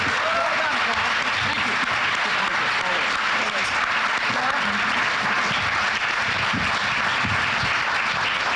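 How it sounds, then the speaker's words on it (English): An audience at a Chicago mayoral candidates forum applauds the candidates with loud, dense, sustained clapping that fills the room from start to end, with some voices mixed in. "Let's give all of our candidates a round of applause."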